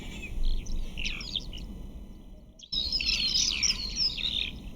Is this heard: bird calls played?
yes